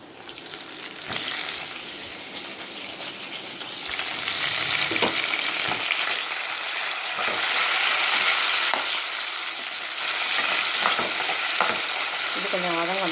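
Chopped tomatoes sauté in a hot pan for Madurai mutton kola urundai curry, a steady sizzle broken by repeated scrapes and stirs of a spoon, growing louder partway through, with no talk.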